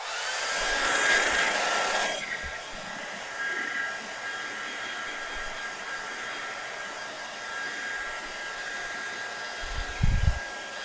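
A hair dryer blows loud and steady for about two seconds to dry paint, then drops to a softer continuous whir, with a brief low thump near the end.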